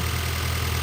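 A 2000 Honda Civic Si engine idles in a steady, even rumble, close and continuous with no voices.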